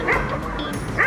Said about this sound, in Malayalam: ഒരു പട്ടി കുറച്ചുകൊണ്ട് വരുന്നുണ്ട്